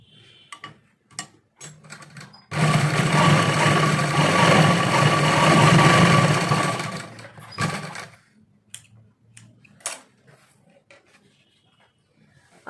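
An electric sewing machine stitches a trouser waistband in one loud, steady whirring run of about five seconds, framed by scattered clicks and handling knocks of fabric and parts before and after.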